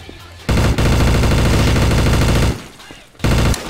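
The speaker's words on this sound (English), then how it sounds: "I'm getting shot." Gunfire in the multiplayer game Garry's Mod comes as a loud, rapid automatic burst lasting about two seconds, then a short pause and another burst, close and dominating.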